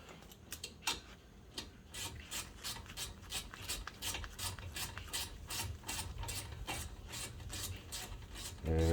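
Ratcheting on brake caliper bolts of a 2004 Saab 9-3 during a front pad change, a steady series of quick metallic clicks repeating for several seconds, fairly quiet and alone.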